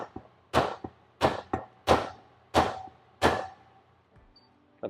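Hammer tapping a bearing into a dirt bike wheel in a shop: five or six sharp metallic clanks at a steady pace, each ringing briefly, with lighter taps in between, no talk.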